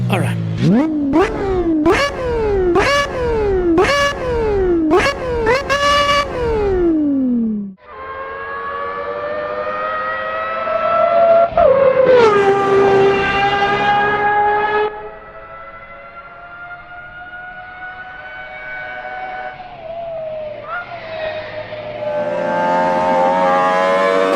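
A Lamborghini Aventador SVJ roars loudly up close, first in six sharp rising rev blips, then through long climbing acceleration pulls broken by abrupt gear-change drops.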